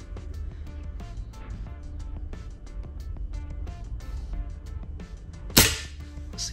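A single sharp, snappy air rifle shot firing a 4.5mm Aurok Olympic Match pellet rings out once near the end, close and loud, over a steady background murmur with music-like tones.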